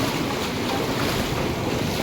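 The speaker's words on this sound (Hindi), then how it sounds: "वेव्स इतनी खतरनाक है कि कोस्ट गार्ड एकदम चील की तरह नज़र गड़ा के बैठे हुए हैं" Ocean waves on a Goa beach wash and roar continuously under heavy wind buffeting on the microphone, loud and close, with no voices.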